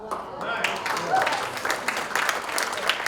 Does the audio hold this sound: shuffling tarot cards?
no